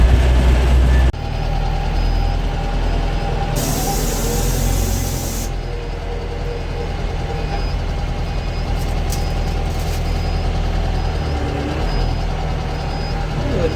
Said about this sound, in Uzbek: Juda ham yumshoq yuradi traktor.